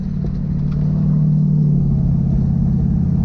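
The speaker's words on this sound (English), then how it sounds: "I've just got a gear change" The automatic transmission of a Toyota Hilux shifts gear under a steady, loud, low engine drone, with a slight change in pitch partway through while driving.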